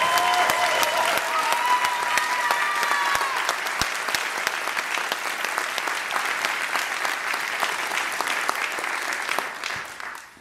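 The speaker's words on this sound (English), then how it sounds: "One more, we gotta give another round of applause." A large audience at a Q&A gives Dolores Huerta a strong, sustained ovation, dense clapping with scattered sharp claps and a few early cheers, tapering off in the final second.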